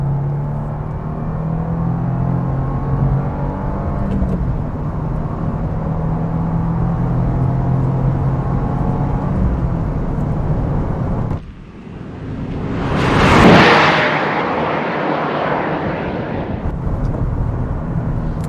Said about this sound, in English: Very typical Subaru engine.